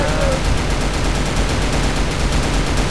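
Rapid, continuous automatic gunfire from the online shooter Crossfire during a zombie mode fight, a dense, loud unbroken crackle of shots lasting throughout.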